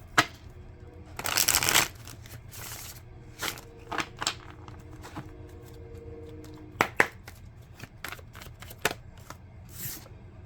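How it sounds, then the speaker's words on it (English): Tarot cards are shuffled by hand, with a dense riffling burst followed by scattered soft slaps, flicks and rustles of the deck, close and fairly quiet, with no voice. "Last shuffle."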